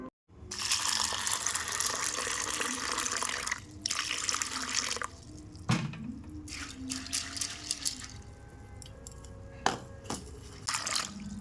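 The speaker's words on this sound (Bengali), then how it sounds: "চলো এই দিকক্ষণে ভিজাই জল দিয়ে।" Lobia beans put to soak under tap water, a steady close gush of running water into a vessel that thins to trickles and drips toward the end.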